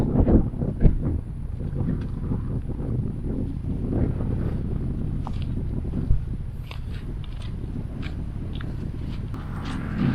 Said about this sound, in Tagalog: lumalakas na rin yung hangin, lumalakas na rin yung alon